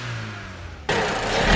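A Vauxhall Corsa engine fitted with a performance air filter idles with a low rumble, then abruptly revs into a loud, broad roar that keeps building, heard close up with no talking.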